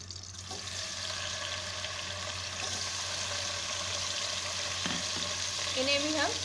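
Paneer cubes frying in a pan for restaurant-style veg biryani, a steady, close sizzle with a constant crackling hiss, a few utensil scrapes and stirring clinks near the end, no voices.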